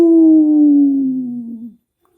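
Pelung turtledove giving a single long, sustained call of nearly two seconds, loud and close, slowly sliding in pitch like a drawn-out howl, then silence.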